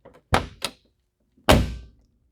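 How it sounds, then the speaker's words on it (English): Heavy door of a classic car shuts twice in quick succession, then a third, louder solid slam rings out alone, close and clear with a short decay. "Here's some classic door sounds."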